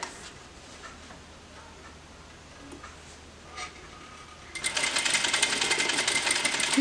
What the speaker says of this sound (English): So I'm just going to sew this up real quick.